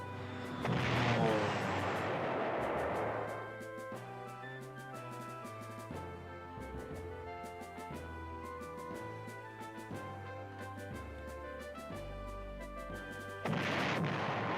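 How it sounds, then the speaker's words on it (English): Artillery fire in the PlayStation retro wargame Panzer General: a loud burst of booming shell fire over the opening few seconds, then a sustained musical soundtrack, with another short explosive burst at the very end. "Wow, that artillery was effective."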